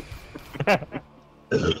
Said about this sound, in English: Burping.